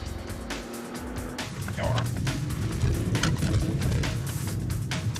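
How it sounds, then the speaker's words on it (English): Engine roar of a car speeding off in Bradford during a police patrol, heard from inside a pursuing vehicle, with the engine surging louder partway through amid clicks and cabin noise. "they spot a car speeding off"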